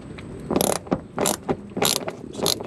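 A ratchet wrench loosening 7mm bolts on a 2001-05 Chrysler PT Cruiser, heard as several short bursts of rapid clicking with pauses between, close and fairly loud, no talking.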